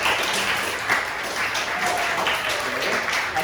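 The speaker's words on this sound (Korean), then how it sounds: "우리 축하하는 의미로 박수." A church youth-service congregation applauds in celebration of a baptism, a dense, even roar of many hands clapping that holds steady from start to finish.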